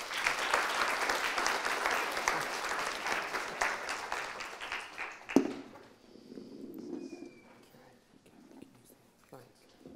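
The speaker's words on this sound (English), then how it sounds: "Can we have a big round of applause" Audience applause at a creative-industry keynote conference, a dense burst of clapping filling the first five seconds, then cutting off sharply into a quieter room with faint shuffles and murmurs.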